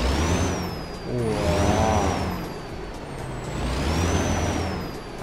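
A Kenworth truck in a truck-driving video game idles and revs with a steady low engine drone, a high turbo-like whistle rising and falling above it, and a hiss of air brake released midway.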